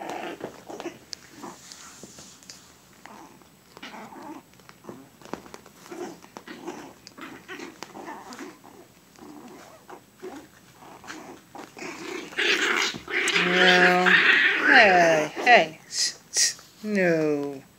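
A mother dog whimpers and growls while shifting her newborn puppies around, with soft rustling near the microphone and a louder burst of close whines and vocal sounds toward the end.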